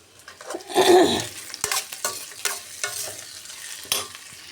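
Onions and green chillies fry in a pan while being stirred for a spinach and onion curry, with a loud burst of sizzling early on, then steady crackle punctuated by sharp utensil scrapes and clinks close by, with no voices.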